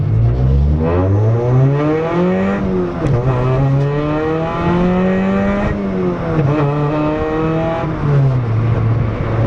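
Engine-swapped Mazda Miata NC on coilovers driven hard up a mountain road, its loud engine revving up and down through repeated rising and falling sweeps with quick gear changes, close and alone with no talk.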